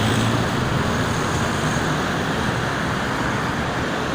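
Morning traffic streams along the Jakarta–Cikampek toll road, mostly private cars, a dense, continuous roar of tires and engines with a broad steady hiss and no break or voices.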